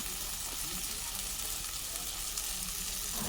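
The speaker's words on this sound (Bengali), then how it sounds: "মাংসটা খুব সুন্দরভাবে কষিয়ে নেওয়া হচ্ছে" Goat meat sautés in a pan with green chillies, giving a continuous soft sizzle with faint stirring scrapes, steady and close, with no voices.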